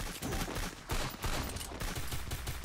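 Rapid bursts of gunfire from the mobile battle game Garena Free Fire, dense and continuous with repeated volleys layered over one another.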